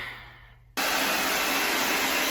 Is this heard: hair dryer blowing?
yes